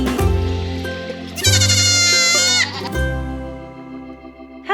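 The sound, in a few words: dairy goats bleating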